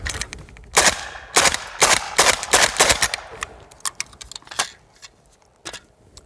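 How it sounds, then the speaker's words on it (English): Suppressed AK rifle fires a quick string of sharp, loud shots in an uneven rhythm, followed by a few scattered quieter clicks and metallic clatter as the action cycles. "we're using a suppressor and I really want to be able to tell the difference in sound"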